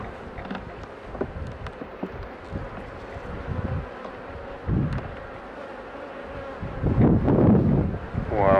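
Honeybees buzz around open beehives during a spring inspection, a continuous drone of many insects close by, with handling noises, wind and brief bursts of nearby voice.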